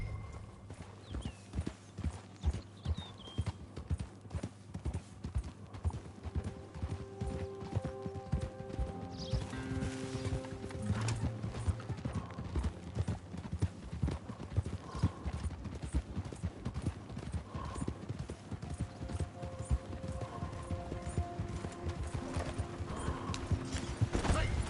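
Horse hooves galloping in the video game Red Dead Redemption 2, a rapid, steady clip-clop rhythm pounding throughout alongside creaking tack and faint ambient sounds.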